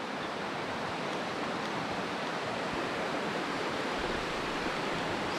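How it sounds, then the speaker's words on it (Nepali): Clear river water rushing near Kulekhani, a loud, constant broadband roar of flowing current with no breaks and no voices. "सफा छ क्या खोला चाहिँ"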